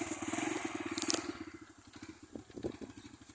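A cold motorcycle engine warming up at idle, a close rapid regular thumping putter that loudens with a brief rev, then settles lower and a little uneven, with faint clatter and no talk.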